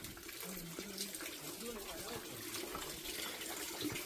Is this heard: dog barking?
no